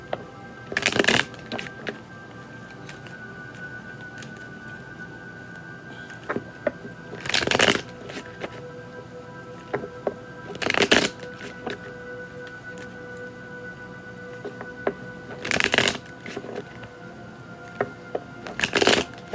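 A deck of tarot cards being shuffled by hand in several separate bursts of crisp riffling, quiet room between, no talk.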